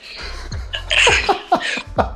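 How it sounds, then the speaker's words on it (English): A sudden sneeze bursts out among short breathy, laugh-like sounds, close to the listener. "The sneeze coming, I just don't know where it is."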